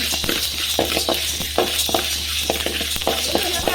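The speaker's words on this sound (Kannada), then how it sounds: "ಮೆಂತ್ಯ ಬ್ರೌನ್ ಆಗಿ ನೋಡಿ ಎಷ್ಟು ಚೆನ್ನಾಗಿ ಫ್ರೈ ಆಗಿದೆ" Fenugreek seeds fry and get stirred in a pan for sambar powder, with steady sizzling throughout and repeated scraping and tapping as they are moved around, close and fairly loud with no talk.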